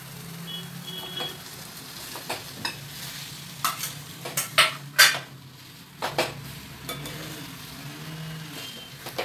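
Potato vada filling with dhana-jeera powder gets stirred in a pan, spoon scraping and knocking against metal in uneven bursts over a soft background sizzle, close and fairly loud.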